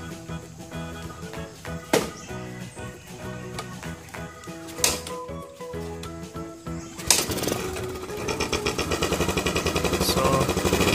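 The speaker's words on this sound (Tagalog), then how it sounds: "tapos papaandarin natin yung motor. So susubukan natin kung aandar ba yung XTZ 125." Yamaha XTZ 125 motorcycle with a hard-starting fault and its air filter removed, a few cranking attempts with sharp bursts, then the single-cylinder engine catches and settles into a rapid, steady idle patter, close and loud.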